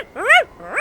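Dog barking close by, two short bright barks with rising-falling pitch, the second one cut off at the end, no talk.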